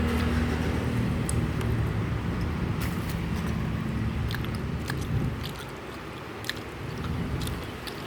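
Someone eating grilled chicken with bamboo-tube sticky rice, soft chewing and biting sounds under a steady background hum of passing traffic, no talking.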